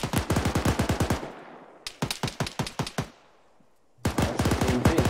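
Automatic rifle bursts in the military shooter game Arma 3 during a training session, three loud rapid volleys of close gunfire separated by short pauses.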